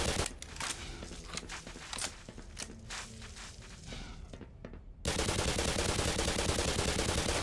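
Rapid gunfire from Black Mesa rattles in quick repeated shots for about five seconds, then gives way to a sudden loud, steady wash of noise.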